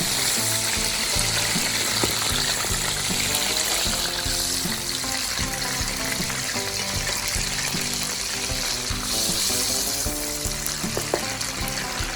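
Beaten eggs and fish chili paste frying in oil in a hot pan, loud continuous crackling sizzle with occasional pops and stirring sounds, no talking.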